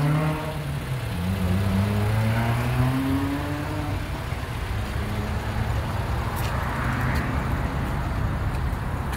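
A white 2017 Toyota RAV4 SE runs nearby, its engine humming steadily and rising briefly in pitch as it revs before settling back to a smooth, even drone.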